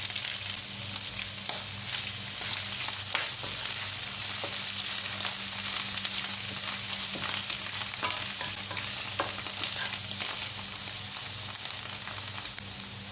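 Sliced mushrooms and onion sauté in a hot pan with a steady, loud sizzle and fry, broken by occasional stirring scrapes and clicks of a utensil, with no one speaking.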